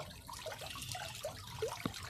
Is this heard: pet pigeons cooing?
no